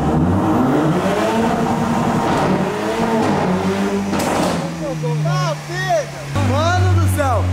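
A Jaguar car accelerates hard for a race against a Porsche, its engine revving up through rising sweeps and gear changes, loud and close, with people talking over it.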